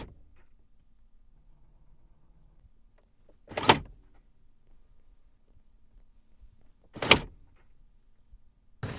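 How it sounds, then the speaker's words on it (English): Door locks on a 2021 Mercedes-Benz G-Class actuate in two separate sharp clunks a few seconds apart, heard close in an otherwise quiet setting. "Listen to what the door lock sounds like."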